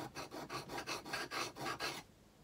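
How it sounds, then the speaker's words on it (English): A tool blade lies flat on an oil stone, rubbed back and forth to remove the burr: about eight even, rasping strokes in a steady rhythm, close and clear, then silence. "laying it perfectly flat on your oil stone and just taking that burr off"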